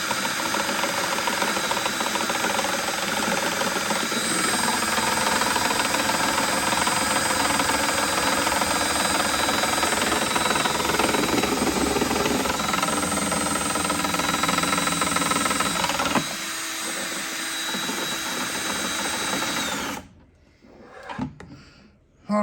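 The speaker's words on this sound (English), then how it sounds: "I got the drill on low speed." A power drill on low speed stirs degasser into a batch of homemade wine, a steady loud whirring churn for about sixteen seconds before the pitch drops and the motor winds down and stops.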